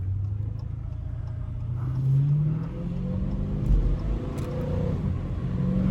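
A car being driven and accelerated as its gears are shifted with paddle shifters, the engine a steady close rumble that rises and falls in pitch through the upshifts.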